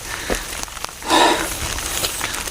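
Rain falling on a mountain trail on Mount Sindoro, a steady close hiss of drops on foliage and ground with a brief louder surge partway through, no talking.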